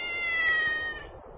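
A cat meows once in a sustained, clear tone that fades out, heard up close with no one talking, in a scene from the anime OVA Hakuouki.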